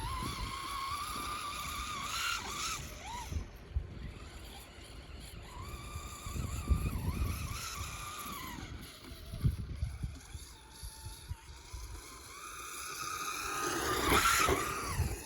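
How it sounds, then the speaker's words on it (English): A Traxxas Slash 4x4 VXL RC car's small motor whines and revs up and down as its wheels spin and scrabble on snow, with rising pitch sweeps and a churning, gritty rush underneath. "let me just get all kinds of wheel spin"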